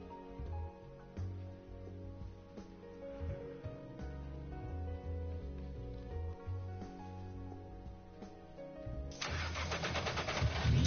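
A Nissan GT-R engine cranks and fires up in the GT Sport racing game, a low rhythmic mechanical chugging that settles into a steady idle, then swells into a louder, rougher rumble near the end, with no talking.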